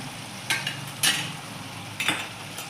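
Tomatoes roasting in a pan for dal palak, stirred with a utensil: a soft steady sizzle with a few distinct scraping strokes and clinks, close and clear.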